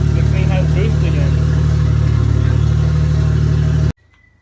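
A Mazda RX-7 with a swapped 1JZ engine idles loud and close with a steady, throbbing drone, cutting off abruptly near the end.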